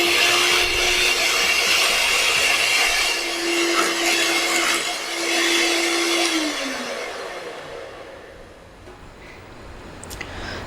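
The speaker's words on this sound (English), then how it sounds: "So let us start whipping it." An electric hand mixer whips cream in a bowl for a butterscotch cake, a loud steady high whir that slows and winds down partway through, leaving quieter background.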